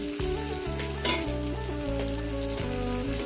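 Potatoes and pointed gourd (potol) frying in oil in a pan over medium heat, a loud, steady close sizzle with a brief louder crackle burst near the start and a humming background tone, no talking.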